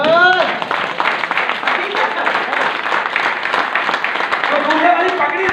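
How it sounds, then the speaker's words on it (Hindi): An audience in an indoor hall claps for a groom. The applause is dense and continuous for several seconds, with a voice speaking over it at the start and the end. "एक बार दूल्हे अपने लिए ताली बजाओ"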